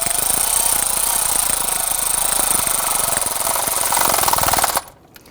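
A power tool, likely an impact wrench, snugs down the ground strap bolt on a Toyota Tundra with a loud, continuous rattling buzz for nearly five seconds, then stops abruptly into near silence.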